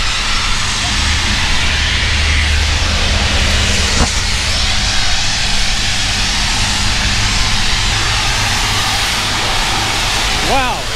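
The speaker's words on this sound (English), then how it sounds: "sandblasting or something going on here. It's pretty loud." Loud sandblasting at a shipyard beside Victoria Harbour gives a constant roaring hiss with a low rumble, heard close and steady throughout.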